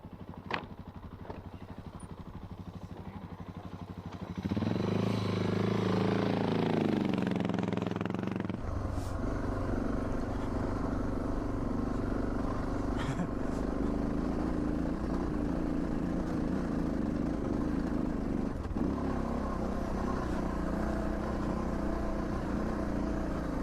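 Suzuki DR650 motorcycle ridden through desert terrain: after a few quiet seconds the engine note swells loudly, revs rising and falling, then settles into a steady, close riding drone with wind and occasional clatter for the rest of the stretch.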